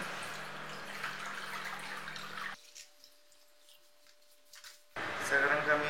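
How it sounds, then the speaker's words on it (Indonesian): Cold water is poured over a container of freshly heated milk to cool it for homemade yogurt: a steady splashing pour for a couple of seconds, a quiet pause, then more water noise. "Kalau mau dinginnya cepat-cepat, bisa seperti ini. Siram dengan air dingin."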